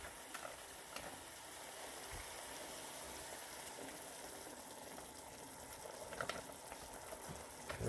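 Beaten eggs with basil scrambling in a hot pan: a steady, soft sizzle and crackle runs the whole time, fairly quiet, with no voices.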